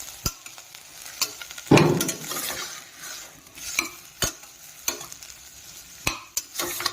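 Spoon scrapes and taps against a pan at irregular intervals over a low frying sizzle as curry is stirred with salt, with one louder clatter early on; no talking.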